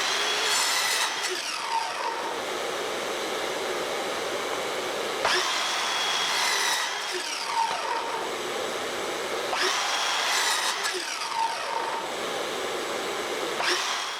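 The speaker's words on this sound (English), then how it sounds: "These boards give me the same height as the base of the miter saw, and I'm going to cut 15 wooden rods." A miter saw slices through wooden rods cut from hoe handles, three cuts in quick succession, each a loud whining motor roar with a rising bite into the wood, then a brief spin-down before the next. Close and continuous, with no talking.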